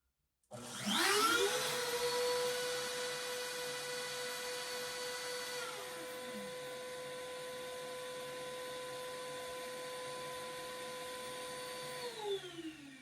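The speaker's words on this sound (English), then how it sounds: "the vacuum will automatically come on" A Dennis shop vacuum on a mill whirs up with a rising whine, runs steadily at a loud level for about twelve seconds, then winds down; no talking.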